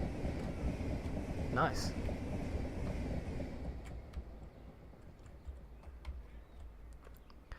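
A fast train in the Train Simulator Classic game rushes past with a dense low roar that fades after a few seconds to quieter rail ticks, while someone speaks briefly over it.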